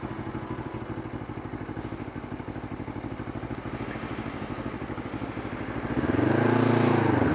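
A BMW GS motorcycle on the move gives a steady pulsing engine drone with road rumble, rising into a louder, deeper roar in the last second.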